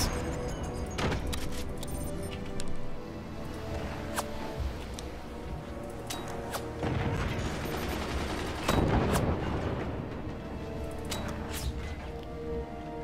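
Battle sounds from the video game Forts: repeated gunshots and heavier cannon-like booms scattered over a steady rumbling background, with several louder cracks standing out at irregular intervals.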